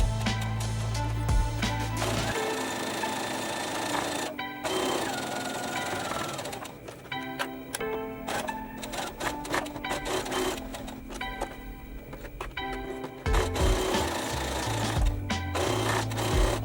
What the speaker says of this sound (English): all I'm going to do is top stitch the edge very close to the edge of the mask